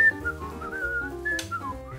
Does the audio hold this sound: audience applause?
no